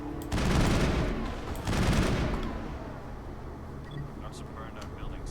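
Bursts of assault rifle fire ring out in the Mass Effect video game, two heavy sustained volleys with a fading echo tail, then quieter background ambience.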